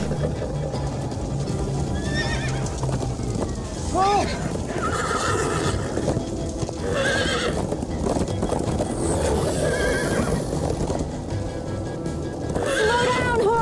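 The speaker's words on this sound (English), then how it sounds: "No, it's a horse." A horse in the Minecraft Story Mode video game gives several loud, shrill whinnies over steady galloping hoofbeats and a dense, constant bed of game noise, all close and sustained throughout.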